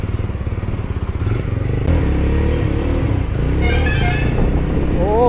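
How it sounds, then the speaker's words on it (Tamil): A Jawa 42 FJ motorcycle engine idles with a rapid, throbbing thump, then settles into a louder, deeper running note with slight revving, recorded close and alone. "நம்ம இப்போது ஸ்டார்ட் பண்ணோன்னே வேறு லெவல் சவுண்டு."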